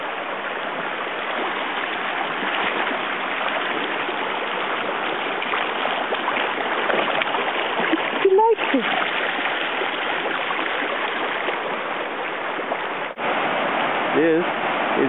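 Flooded creek surging after a wall of water hits on a Labor Day hike, a steady broad roar of rushing water throughout, with a few brief voices breaking in near the middle and end.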